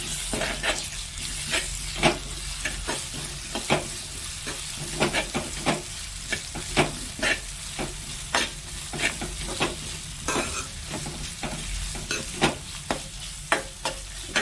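Ginger garlic paste fries in a pan for a bottle gourd curry, a steady soft sizzle broken by repeated scraping strokes of a spoon stirring it, close and without talk.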